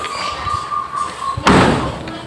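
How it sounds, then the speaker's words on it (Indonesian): The tailgate of a Chevrolet Spin shuts with a single solid slam, loud and close, after a few seconds of quiet handling with a faint steady tone in the background. "Nah, sekarang coba kita tutup lagi."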